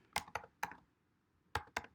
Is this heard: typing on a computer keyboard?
yes